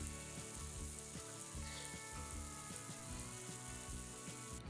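Avocado oil heats in a frying pan for a fish and potato fry, giving a steady, close sizzle and hiss that carries on unbroken under a faint rhythmic low background.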